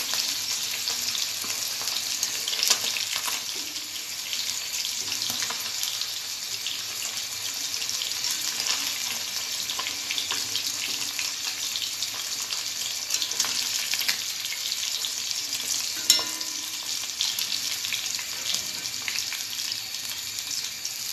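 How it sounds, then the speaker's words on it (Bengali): Steady, bright sizzling of pabda fish frying in hot oil, loud and continuous, with an occasional clink of a utensil. "আমি এখানে পাপটা মাছ ভেজে নিয়েছি"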